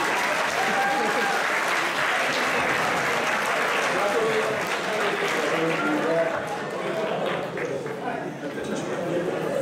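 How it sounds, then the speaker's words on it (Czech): Sustained applause fills a school hall after a teacher's turn at a Christmas show, a dense steady crowd clapping that carries on for several seconds and eases slightly near the end. "Prosím, potlesk pro odvolnou přesou těžící."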